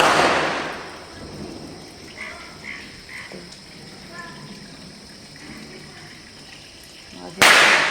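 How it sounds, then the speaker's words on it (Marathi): A sharp Diwali firecracker bang bursts out near the end, loud and close, after a fading blast at the start and a stretch of quiet, distant voices. "फटाके वाजवू थोडेसे"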